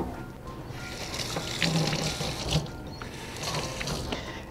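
Tap water runs steadily into a kitchen sink as a roughly two-pound head of cauliflower is rinsed, a continuous close splashing wash with faint clinks underneath.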